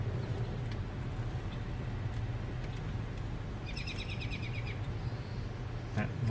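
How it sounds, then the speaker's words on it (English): An American robin calls in a short patterned burst midway through, heard from a roadside over steady traffic rumble and a low engine hum. "vocalization we're hearing now, that's a robin"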